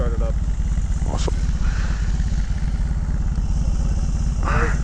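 BMW R18 motorcycle engine idling with a steady low throb after start-up, loud and close, with faint voices talking over it.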